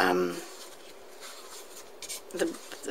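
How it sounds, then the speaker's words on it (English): A file rasps against the chipboard edge of a miniature dresser in soft, scratchy strokes that swell briefly near the end, after a faint voice at the start. "I'm just filing off some of the chipboard because it comes away"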